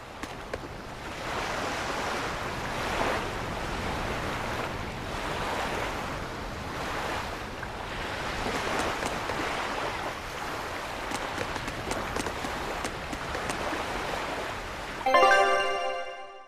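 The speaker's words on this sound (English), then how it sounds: "All right, we're safely on the rolling waves." Rolling ocean waves in the Tales of Berseria video game, a steady surging wash with soft wind that holds loud and even throughout, ending in a brief bright chiming burst.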